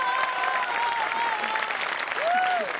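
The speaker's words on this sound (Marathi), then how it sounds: "एकदा जोरदार टाळ्या टीमसाठी" Studio audience applauding a dance performance on a Marathi comedy show, steady dense clapping throughout with a faint tonal whistle or music line over it.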